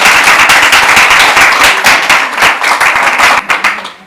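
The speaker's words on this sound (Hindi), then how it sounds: "आप लोग इतनी तालियों से काम चलेगा नहीं" Audience claps loudly and continuously after a correct answer in a Hindi quiz show, with dense applause and a few sharper claps, no talking.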